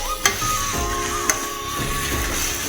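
Snake gourd stir-fried in a pan sizzles steadily with a constant hiss, punctuated by two sharp clinks of a utensil against the pan; close and moderately loud, with no talking.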